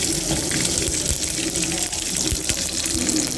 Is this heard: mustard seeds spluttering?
yes